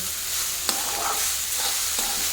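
Chowmein being stir-fried in a pan sizzles steadily while a spatula scrapes and tosses the noodles with a few soft clacks, close and continuous, with no talking.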